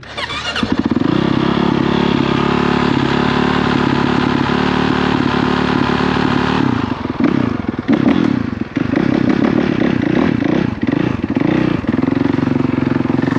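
A Honda CRF450RX dirt bike engine idles steadily and loudly close by, a continuous throbbing drone that wavers and revs slightly partway through, with no talking.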